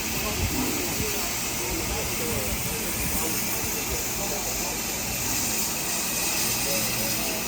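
A Santa Fe steam locomotive hisses steam, a continuous, even, fairly quiet wash of hissing noise with a low rumble beneath, with no break.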